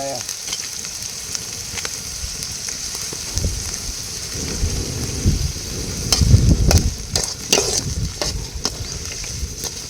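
Green chillies and tomato fry in a hot pan with a constant rain-like hiss of sizzling oil that swells louder midway, punctuated by occasional stirring knocks.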